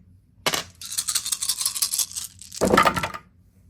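Nine dice rolled onto a table during a Star Wars Shatterpoint tabletop game, two bursts of clattering rattles, close and fairly loud, with no talking.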